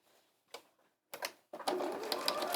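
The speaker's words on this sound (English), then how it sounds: "start to sew right from the edge of that crease there" A sewing machine stitching the corner of a tote bag: two brief quiet starts, then a steady close whirring run of needle strokes.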